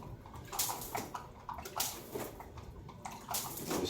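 Water douses a stone surface before brushing, a soft, uneven splashing and pattering that runs steadily throughout at low level.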